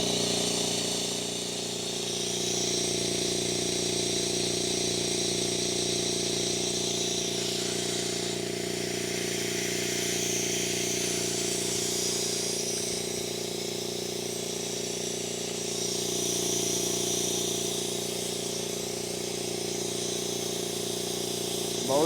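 An air compressor running off a Ryobi 40V power station with its valve left open, giving a steady loud hiss and hum that drones on without pause for the whole stretch.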